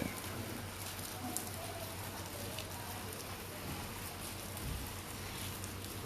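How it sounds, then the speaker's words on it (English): Rain falls steadily in Jamaica, an even close hiss of drops with faint patter across the whole stretch and no talk over it. "It's raining right now."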